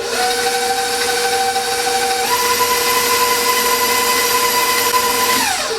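An electric mixer beating pistachio cookie dough gives a loud, steady motorized whine that shifts up in pitch partway through and holds until it winds down at the end, with no talking.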